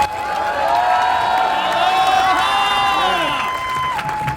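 A crowd cheers, whoops and claps to welcome a pastor at a seaside Blessing of the Waves gathering in Huntington Beach, a steady, dense roar of voices and shouts with some high tonal cries, continuous and loud throughout.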